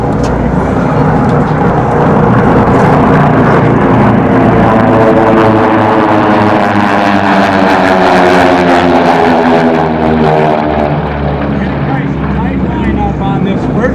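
Loud roaring engines of racing airplanes at the 2013 Reno Air Races drone continuously, a steady powerful rumble with shifting pitch as the planes pass close by on the nearly 5-mile course.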